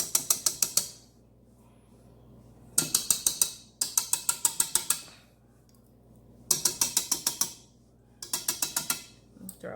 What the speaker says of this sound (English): I'm going to eject these whisks so I can tap out the rest.